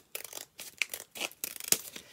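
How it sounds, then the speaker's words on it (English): Scissors snip through paper while trimming a strip about a centimetre off the edge for handmade bookmaking: a series of short, crisp cuts with crinkly rustles, close and fairly quiet, with no talking. "So I'm going to cut up here about a centimetre off the edge here with"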